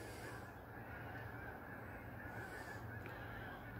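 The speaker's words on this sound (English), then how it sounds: "Lots of bird noises." Geese honk in the background at a nature reserve by a river, heard amid steady wind and rushing noise with no nearby voices.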